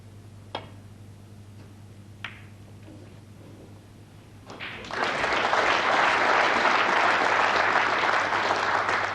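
Audience at a 1990 British Open snooker match breaking into a sustained, steady round of applause after a couple of sharp ball clicks on the table.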